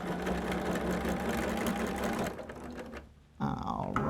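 Sewing machine stitching a quilt top, running steadily and loudly for a little over two seconds, then pausing briefly before starting again near the end; speech is faint underneath.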